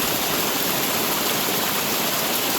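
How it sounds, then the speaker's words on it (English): Emory Gap Falls, a waterfall on a forest trail in Frozen Head State Park, Tennessee, roars as a steady, dense wash of falling water that holds constant throughout, close and fairly loud with no voices over it. "And now we have made it to Emory Gap Falls."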